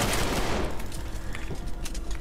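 Gunfire rattles in the video game Trepang 2 as a loud, dense burst of rapid shots at the start, then continuing quicker pops and cracks close by.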